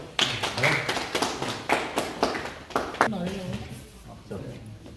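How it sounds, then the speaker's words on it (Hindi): Sharp hand claps ring out at a Peoples Democratic Party gathering in Kathua, welcoming a newly named district president; a run of loud, closely spaced claps with voices talking and calling out underneath, thinning toward the end. "जोरदार तालियां दें उन्हें।"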